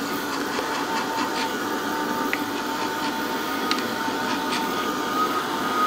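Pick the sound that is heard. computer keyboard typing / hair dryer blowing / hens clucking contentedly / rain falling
hair dryer blowing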